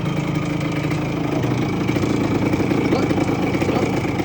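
A Yamaha DT 100 enduro motorcycle engine runs at a steady idle up close, its even mid-pitched drone continuing with a person talking over it.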